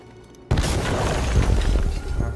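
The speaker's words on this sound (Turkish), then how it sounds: "Attı bombayı." A bomb detonates in Detroit: Become Human, a sudden loud boom after a quiet moment, followed by a sustained roaring, crackling aftermath with debris-like clatter.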